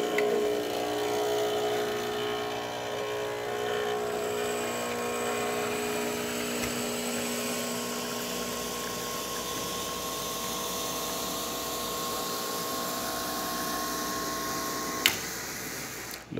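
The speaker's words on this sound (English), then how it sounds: "Let's go ahead and test it and make an espresso shot on it." A Pasquini Livia espresso machine pulls a shot with a steady pump drone and humming tones, closely recorded, ending in a sharp click near the end.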